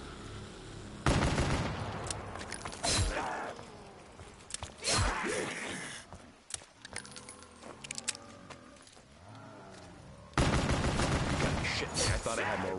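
RK5 pistol fire in Black Ops 3 comes as loud, close bursts of shots separated by quieter stretches, mixed with metallic clinks and game effects.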